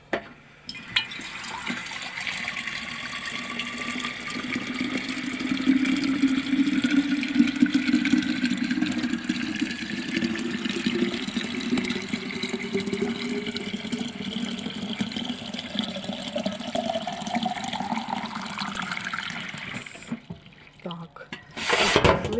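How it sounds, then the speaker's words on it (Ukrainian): Water pours steadily into a glass jar, its tone rising as the jar fills, with a low engine-like hum underneath before the pouring stops. "Наливаємо воду."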